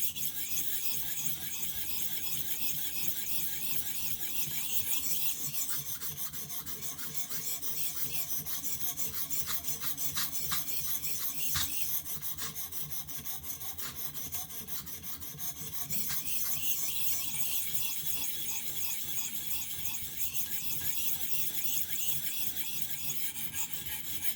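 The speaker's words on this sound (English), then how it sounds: "So we're going to make this a uniform sharpness all the way along the edge." A knife edge is drawn steadily across a ViperSharp sharpener, a continuous close rasping grind that keeps going with brief pauses and changes in stroke.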